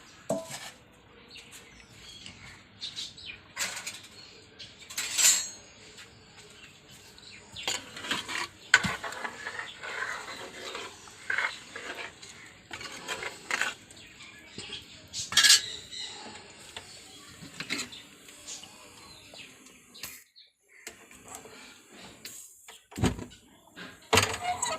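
Scattered metal clinks and clanks of a cooking pot being handled and set on a stove, holding Amur fish curry with second-press coconut milk in a home kitchen, quiet and intermittent with brief louder knocks.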